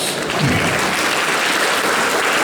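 Festival audience applauding after a joke, a dense, steady wash of clapping that fills the whole stretch with little else audible.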